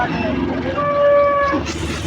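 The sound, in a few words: cattle at the Chandaikona cattle market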